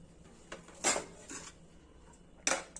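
Onion rice is served, and a metal utensil clinks against dishes in a few sharp, close knocks spaced unevenly over under three seconds, with quiet pauses between and no voices.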